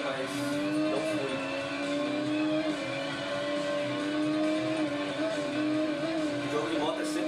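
A motorcycle engine in the racing video game Ride holds a continuous, buzzing whine that shifts slightly in pitch as it revs, loud and steady from start to finish.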